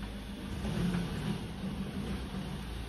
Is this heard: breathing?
no